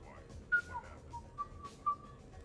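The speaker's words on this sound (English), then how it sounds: "Are you whistling?" A character in the video game Mass Effect 3 whistles a short, quiet tune of a few clear pitched notes against a faint low background.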